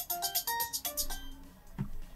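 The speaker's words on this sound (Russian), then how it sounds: "Каждая иконка издает свой звук." A sequence of short, bright electronic tones from an Alcatel mobile phone's menu, each icon playing its own chime. The blips come in a quick rhythmic run, followed by a lower tone near the end, heard close and alone without speech.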